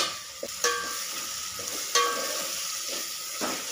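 Masala of ginger, garlic and chili being roasted and stirred in a pan over a high gas flame, a soft steady sizzle with a couple of sharp spoon clinks against the pan.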